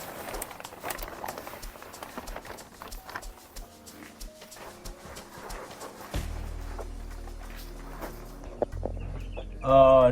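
Broiler chicks in a brooder cluck and peep continuously in their first week, a busy flock chatter with scuffling and fluttering, close and moderately loud, ending in a brief louder burst.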